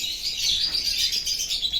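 Caged lovebirds chirp continuously in a bright, busy chatter, fairly close and with no one speaking.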